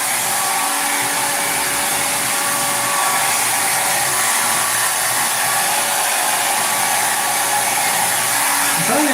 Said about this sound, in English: I'm trying to dry my hair.